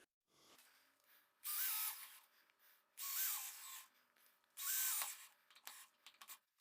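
A power drill drives screws into a door hinge in three loud, evenly spaced whirring bursts, each about half a second long, with quiet clicks and handling noise between them.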